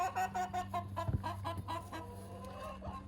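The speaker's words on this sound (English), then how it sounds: "You guys are too noisy. These chickens." Busy chicken clucking fills the air, with overlapping calls over a steady low hum.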